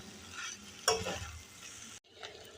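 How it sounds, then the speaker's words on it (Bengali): Vegetables and pasta tossed in a hot pan with red chili sauce and black pepper, giving a brief scraping stir and soft sizzle, close and moderately loud, with a sharp clack near the middle before it cuts off. "সবজির সাথে পাস্তা ভালো করে মিশিয়ে নিয়েছি।"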